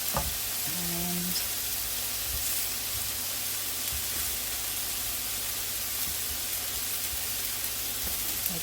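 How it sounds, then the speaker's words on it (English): Pork chops sear in a hot pan with a continuous, moderately loud hiss and crackle, steady throughout, with a few small clinks of handling and a low electrical hum underneath. "so we're just going to sear these, give them a couple of minutes"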